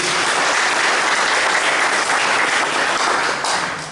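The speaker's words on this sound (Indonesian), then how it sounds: "Tepuk tangan dulu untuk Yesus" Loud, dense applause from a church congregation during a Sunday worship service, a continuous roar of many clapping hands filling the space from start to finish.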